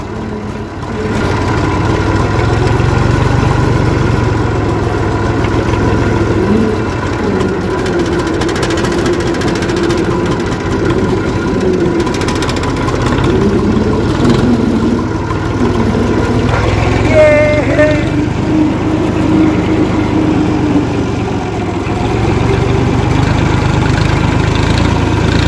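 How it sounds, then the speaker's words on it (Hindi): A tractor engine runs steadily up close on a road, a loud continuous low rumble with mechanical vibration throughout, and a faint voice or chirp surfacing briefly in the middle. "मैं चला रहा हूँ ट्रैक्टर, आपका भाई चला रहा है ट्रैक्टर।"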